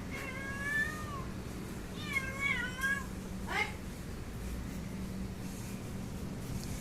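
A pet cat meows three times in quick succession, soft and fairly close, its drawn-out cries rising and falling over a low steady background hum.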